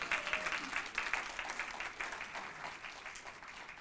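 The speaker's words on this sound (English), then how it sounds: "how about a round of applause for the music team?" A church congregation gives the music team a round of applause, a continuous patter of many hands clapping, heard from a distance and slowly thinning toward the end.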